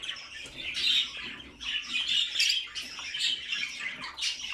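Caged canary chicks squawking in a continuous shrill, raspy chorus of begging calls, close and fairly clear with no talk.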